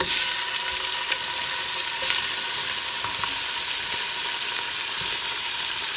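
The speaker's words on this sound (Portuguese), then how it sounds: "E já começo refogando" Meat and bones sautéing in a little fat in a pan for a dark beef stock, a steady close sizzle and crackle with scattered pops running throughout, no voices.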